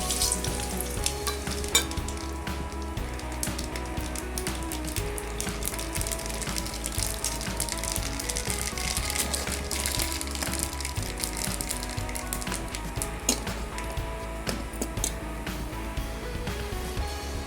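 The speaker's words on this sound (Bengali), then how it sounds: "গরম হয়ে গেছে এখানে সর্ষে আর শুকনো লঙ্কা তিনটে দিলাম" Mustard seeds and three dried red chilies sizzle in hot oil for fried cabbage, a dense, loud crackle with rapid popping and spattering that runs without pause, close up.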